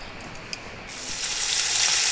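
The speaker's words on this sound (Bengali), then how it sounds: "তো ওই যেখানে মাছ ভাজা বসিয়ে দিলাম," Fish frying in a pan, starting quiet with a faint clink, then a bright sizzle rising sharply and swelling into a steady loud hiss; no voices.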